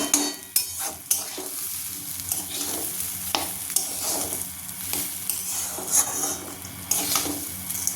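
Khichuri sizzles in a pan while a spoon stirs and scrapes through it in repeated strokes, with occasional sharper clinks against the metal.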